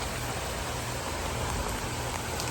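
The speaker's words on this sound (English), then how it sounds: "It is pouring down rain." Heavy rain from Hurricane Idalia pours down in a dense, constant hiss, loud and unbroken from start to finish.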